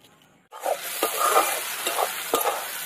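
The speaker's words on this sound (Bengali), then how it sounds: "পেঁয়াজটা ভালো করে একদম লাল করে ভেজে নেব" Onions frying in oil with bay leaf and dried chili, a steady close sizzle starting abruptly after a short quiet moment, with a few stirring scrapes and clinks of a utensil through it.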